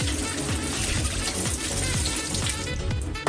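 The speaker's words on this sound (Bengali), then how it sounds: "প্রচণ্ড নোংরা জল বেরোচ্ছে।" Very dirty water pours and splashes steadily while nets are being cleaned, a continuous close gushing like a running tap into a basin, with no talk.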